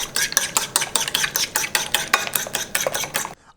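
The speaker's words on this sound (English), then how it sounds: "I want to scramble these 2 eggs that I gotta use for the rice" Two eggs with black pepper are beaten in a bowl, giving a brisk, regular series of clinking, scraping strokes, about four per second, close up and alone until the whisking stops.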